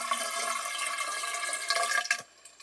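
Water poured from a container into a floor drain, a steady close splashing gush that runs for about two seconds, then thins to a few trickles and stops.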